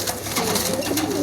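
Pigeons coo in a small loft flock of white and black house pigeons, with soft overlapping calls running continuously at close range.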